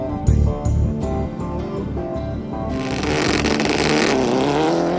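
A rally car races fast along a stage at the Border Rangers Rally in New South Wales, its engine revving hard with rapid gear-change pulses, then surging into a loud, rising roar as it passes close by.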